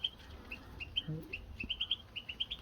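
A Eurasian siskin calls in a rapid series of thin, high chirps, some doubled, repeating steadily over faint background noise, fairly close.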